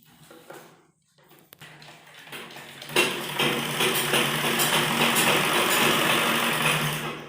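A sewing machine hemming the bottom edge of palazzo trousers, a few short bursts and quiet handling at first, then a loud, close, continuous rapid stitching whir that runs steadily to the end, with no talk.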